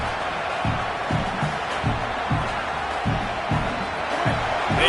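A stadium crowd at a Florida vs Clemson football game roars steadily at a distance. Rhythmic thumps, likely stomping or chanting, repeat under it, and faint talk runs through.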